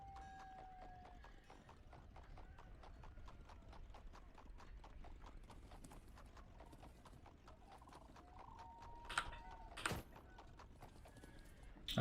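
Horse hooves clip-clop in a steady, even rhythm through the Thronefall strategy game, a continuous mid-level patter with a couple of sharper bright clicks near the end.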